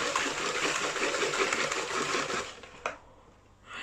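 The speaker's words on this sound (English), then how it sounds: "Give that a good whisk." Cookie dough ingredients whisked in a bowl: a continuous rapid scraping, swishing rhythm, close and moderately loud, running about two and a half seconds before a small clink and a quieter pause.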